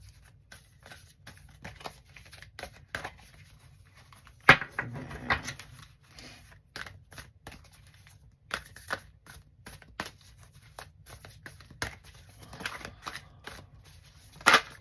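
Soft, irregular riffling and slapping of a deck of cards being shuffled for a card reading, quiet and close, in scattered bursts without talk.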